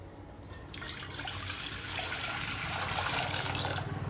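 Water from a storage pot gushes and splashes into a container, building in fullness over a few seconds, with no one speaking.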